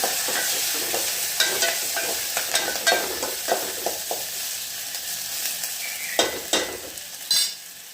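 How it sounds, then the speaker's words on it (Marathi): Curry leaves and chopped onion fry in a pan while being stirred, giving a steady sizzle broken by repeated scraping strokes of a spatula, close and fairly quiet. "हा कढीपत्ता आणि ते जो कांदा आहे कापलेला आहे तो टाकून देते हा त्याची भाजून घेते"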